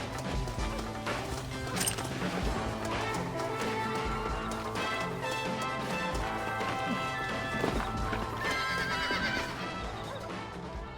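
Horse neighs and clip-clopping hooves from the Red Dead Redemption video game, mixed with loud crashes and a dense orchestral score that runs continuously underneath.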